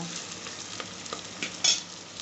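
Food frying in a pressure cooker in a home kitchen, a steady soft sizzle with intermittent stirring scrapes and a brief louder clatter near the end.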